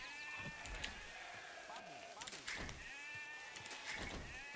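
Sheep from the strategy game Age of Empires II bleat repeatedly in wavering calls, layered over clicks, thunks and other game sounds at a steady moderate level.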